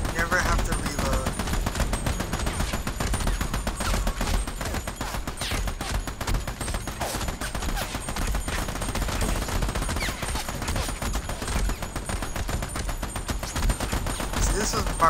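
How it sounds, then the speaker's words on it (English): Sustained automatic gunfire rattles from the Army of Two shooter, with dense, rapid bursts of rifle and machine-gun fire continuing almost without pause over a steady battle din. "Just unload bullets. Never have to reload."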